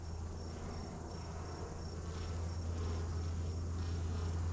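Honeybees drone steadily around an open hive full of brood and nectar, a soft continuous buzz with a low hum beneath, constant and close throughout.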